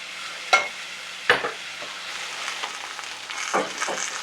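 Pork chops sizzle steadily in a pan with a constant bright hiss. A few sharp clacks and scrapes from utensils cut through it.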